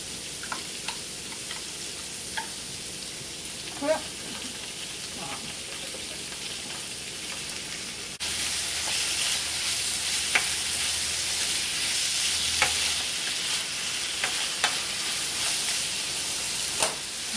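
Ground beef and salsa for taco salad sizzling in a frying pan on medium high heat, a soft crackle with occasional stirring clicks that jumps to a louder, brighter sizzle partway through.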